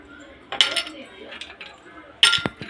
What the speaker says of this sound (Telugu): ఐస్ గడ్డలు వేస్తున్నామండి